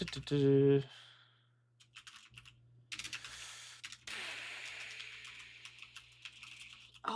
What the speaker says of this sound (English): you typing them out?